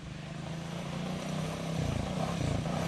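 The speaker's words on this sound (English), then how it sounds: "riding his little 90cc four-wheeler" A small Sunl SLA 90cc Chinese four-wheeler ATV is ridden through the woods. Its engine gives a continuous buzzing drone at close range, and the pitch climbs slightly toward the end.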